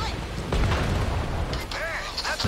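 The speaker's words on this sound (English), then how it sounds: "Hey, that's another explosion." Explosion in the co-op heist game Payday 2, set on a bridge, a heavy low boom rumbling for a couple of seconds under game noise, with players talking over it and a whistling tonal sweep near the end.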